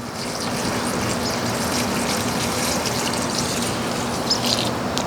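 Rainwater poured from a container onto plants, a loud steady gushing and splashing that runs continuously without pause and with no talk.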